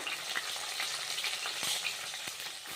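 Tomatoes fry in hot oil in a pan for a rice dish, a dense continuous sizzle with occasional spatula taps and scrapes, close and steady with no voices.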